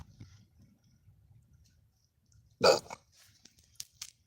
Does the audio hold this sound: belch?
yes